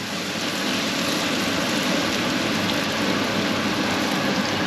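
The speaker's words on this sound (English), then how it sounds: "there's the first one in, and there's the scraps bubbling up" Battered hull patty scraps bubbling in a deep fryer make a loud, steady crackling hiss that rises at the start and then holds evenly throughout, with no talk.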